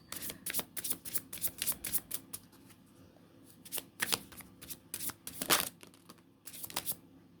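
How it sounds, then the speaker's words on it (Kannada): Tarot cards being shuffled by hand, a series of quick riffling bursts in uneven clusters, close and crisp over a quiet background, with no speech. "ನಾನು ಇದರಿಂದ 3 ಕಾರ್ಡ್ ತೆಗಿತೀನಿ."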